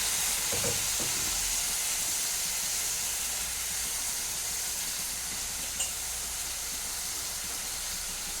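Spice paste with turmeric, cumin and a splash of water sizzles steadily in a pan for a loitta (Bombay duck) fish curry, a faint continuous frying hiss with a couple of brief stirring knocks near the start.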